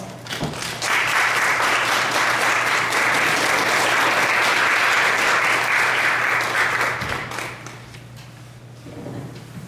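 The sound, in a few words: church congregation applauding to welcome a pastor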